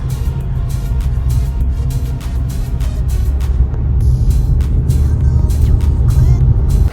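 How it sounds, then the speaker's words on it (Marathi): A car driven on a road trip from Badlapur to Alibag, a steady low engine and road rumble inside the cabin with occasional rattling clicks. "आता ऋषाला गाडी चालवायला दिली आपण"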